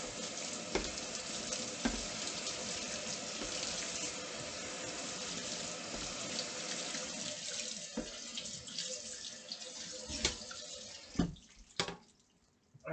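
Tap water runs steadily into a sink while a chopping board is rinsed after washing with soap, a continuous splashing flow with a few clatters near the end before it stops abruptly.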